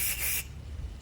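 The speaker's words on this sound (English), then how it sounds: "Give it a quick spray." Short hissing burst of spray cleaner aimed into the small ports of a lawn mower carburetor from a Yard Machine, close and lasting under half a second, then a brief second hiss starting at the end.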